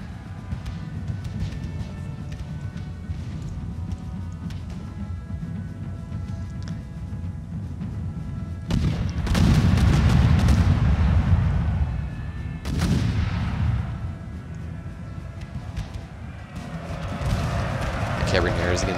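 Cannons give covering fire in a Battle of Venice video game between France and Russia, with two heavy booming bursts around the middle rising over a constant rumbling battle din.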